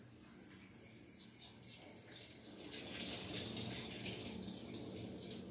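Running water from a tap rinses a King Charles Cavalier spaniel's ear during a bath, a steady close hiss and splash that grows slightly louder and fuller midway, with no speech.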